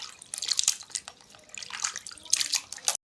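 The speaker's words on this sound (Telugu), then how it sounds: "ఇలా బాగా కడుక్కోవాలి ఇంత గలీజ్ అంతా వెళ్ళిపోయేలా కడుక్కోవాలి" Mutton pieces washed by hand in water, giving splashy sloshing and dripping in irregular bursts, close-up with no talking.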